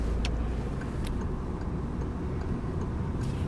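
A car pulls away and speeds up during a driving lesson at a right-of-way junction, its engine a steady low rumble under faint cabin clicks and ticks, with no talking.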